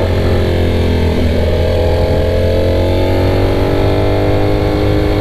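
A Ducati Panigale V4 motorcycle engine runs at light throttle, a loud, close, steady mechanical drone with a rising harmonic whine as revs climb gently, and no talking over it.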